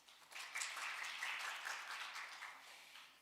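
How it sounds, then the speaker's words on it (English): Audience applause welcoming a presenter to the stage at an academic workshop, a steady, fairly faint patter of many hands lasting a few seconds with no talk. "Please welcome her with a big round of applause."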